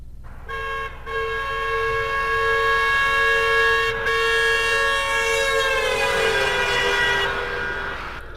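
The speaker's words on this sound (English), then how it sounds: "that car's horn only beeps, only honks at one frequency" A sustained car horn blares loudly for several seconds, its pitch sliding downward as the vehicle passes, with traffic rumble underneath.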